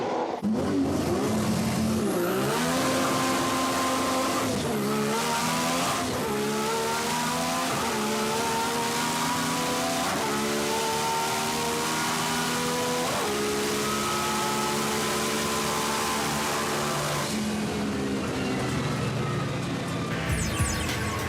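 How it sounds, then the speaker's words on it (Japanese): Onboard run in a Nissan Skyline R34 GT-R with its RB26 engine, accelerating hard from a standing start through repeated gear changes, a loud continuous engine roar rising in pitch and stepping down at each shift. "では圧巻の加速をオンボードフルプレイでどうぞ。"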